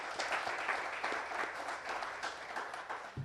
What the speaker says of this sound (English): Let's give the youth a round of applause.